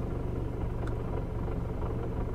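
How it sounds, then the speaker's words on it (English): A Volkswagen MK7 GTI fitted with a BFI Stage 3 clutch rumbles close by, a steady low chatter and engine drone continuing without pause and no talking. "As far as clutch chatter goes, I'll show you guys a clip right now."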